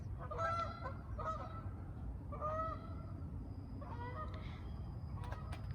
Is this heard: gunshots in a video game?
no